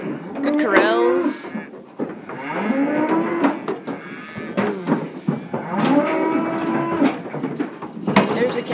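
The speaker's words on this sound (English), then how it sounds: "There's the cows go getting out of the bus." Several cows unloading from a cattle semi trailer moo loudly and close by, long low calls overlapping one another with short pauses between.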